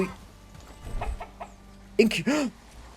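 Chickens clucking in the medieval survival game Bellwright, a couple of bright squawking clucks near the end after softer muffled sounds, with faint talk-like murmurs earlier.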